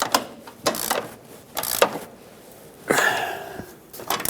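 Ratcheting wrench clicks in short bursts while tightening the front shock nut on a Ford E-350 van, with several quick close ratchet runs separated by pauses and a longer burst near the end.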